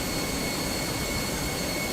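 Jet engines of an airliner in Microsoft Flight Simulator 2024, heard at Washington Dulles as a steady, loud broadband roar with a constant high whine, unbroken and alone for the whole stretch.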